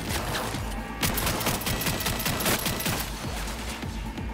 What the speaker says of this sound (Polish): O kurwa, to chyba jakiś śrutownik jest.